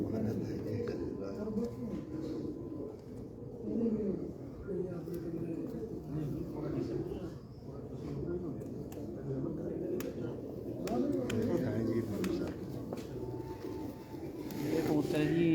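Pigeons coo continuously in low, throaty murmurs, close and layered over one another, with people talking quietly in the background.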